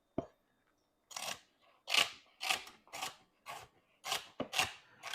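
A Dalstrong Quantum 1 cleaver chops through food on a cutting board, giving about eight sharp, crisp cuts in an uneven rhythm, each with a brief scraping tail. The cuts sound close and clear, with no talking.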